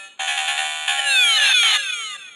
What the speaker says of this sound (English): you get the you lose sound